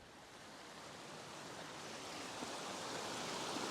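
A mountain river rushes beside a steep path near Loch Ann, a broad, steady hiss of running water that swells slightly louder over a few seconds, with no voices.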